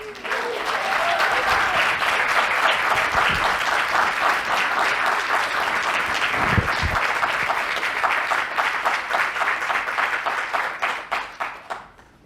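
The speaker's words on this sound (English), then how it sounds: "That applause wasn't for me, by the way." A film festival audience gives sustained, dense applause that holds steady for about ten seconds and then thins out into a few last claps, with some faint talk underneath.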